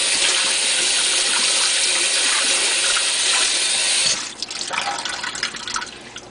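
Cold water running from a tap, a steady close gush for about four seconds that then changes to softer, uneven splashing and dripping as an object is rinsed.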